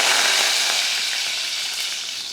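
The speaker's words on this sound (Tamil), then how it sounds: "எண்ணெய் காஞ்சதுமே கொஞ்சம் கடுகுளுந்தும் கூடவே கொஞ்சோண்டு கொஞ்சமாக சோம்பு சேர்த்துடலாம் அடுத்து கருவேப்பிலை போட்டுட்டு" Mustard seeds, urad dal, fennel and curry leaves sizzle in hot oil for a one-pot tomato rice, a loud, steady crackling hiss that runs on without pause and with no voices.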